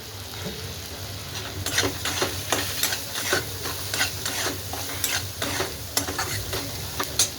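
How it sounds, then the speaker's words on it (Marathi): Raw green chillies fry in oil over a low gas flame, a steady close sizzle punctuated by sharp crackles and the scrape of stirring, with no talk. "मिरची कच्ची घेतल्यामुळं पूर्ण तेलामध्ये छान अशी बारीक गॅसवर भाजून घेऊया"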